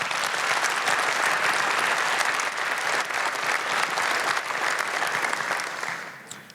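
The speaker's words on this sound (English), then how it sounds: "So I think we ought to give them a round of applause as well." An audience at an economic outlook presentation breaks into a sustained round of applause, dense steady clapping that fades slightly at the end.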